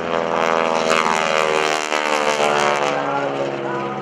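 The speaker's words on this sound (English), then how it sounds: "the World War II iron with a 600 horsepower engine, and Bill Leff does the 4-point hesitation" Loud, droning World War II propeller airplane with a 600 horsepower engine roaring up close at an air show, with a steady buzzing pitch that shifts slightly as it passes.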